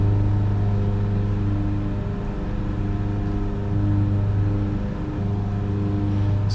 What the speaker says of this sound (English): Just give it a bit of a gas, see what those engine sounds sound like.